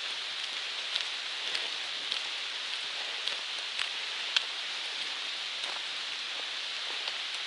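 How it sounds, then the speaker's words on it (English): Hard rain falling steadily on a hiking trail, a dense, even hiss of drops with occasional sharper taps close by, continuous for the whole stretch with no voices. "here comes the rain. It starts raining hard."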